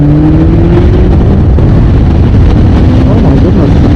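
A Yamaha XJ600 motorcycle with a 4-into-1 exhaust accelerates hard, the engine note rising in pitch, then dipping at a gear change before climbing again, loud and close beneath heavy wind rush.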